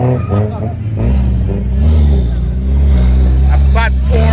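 A Porsche 911 rolls into a racetrack, its engine droning loud and low with rising revs, while voices talk over it nearby.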